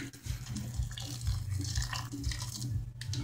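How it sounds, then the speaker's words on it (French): Hot water poured into a container right up to the rim, a steady close splashing and gurgling stream lasting a few seconds with no talk. "on met de l'eau chaude jusqu'à rebord"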